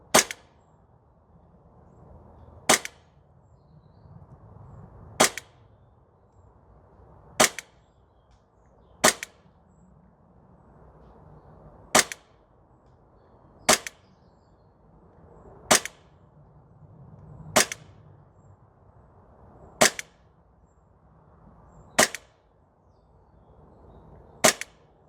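A Novritsch SSP28 airsoft rifle fires about a dozen sharp, isolated shots at a steady pace at an outdoor range, each a crisp snap with quiet gaps between.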